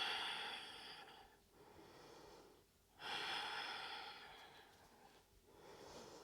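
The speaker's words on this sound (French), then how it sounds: "N'oubliez pas la respiration" Slow ujjayi breathing through a closed mouth during a yoga flow: long, soft, throaty inhales and exhales separated by short pauses, close and faint.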